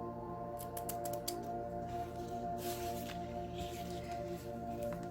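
Scissors snipping through ribbon while embellishing Converse shoes, a few quick crisp cuts over a steady background hum, close and fairly quiet.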